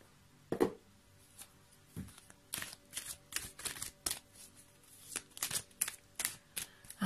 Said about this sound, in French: on va prendre une carte de « Je me sens à ma place »